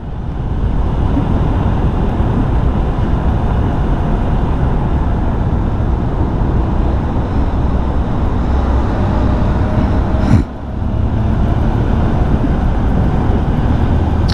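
Road vehicles rumble through the Kashedi tunnel, a three-lane bore still under construction, heard from a motorbike riding inside: a loud, steady roar of traffic and wind booming off the tunnel walls, with one brief dip near the end.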